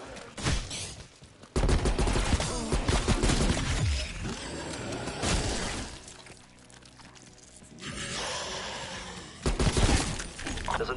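In the Die Maschine zombies map of Call of Duty Black Ops Cold War, a frag grenade blast erupts amid heavy, loud, broadband bursts of explosions and gunfire that recur through the passage with brief dips between them.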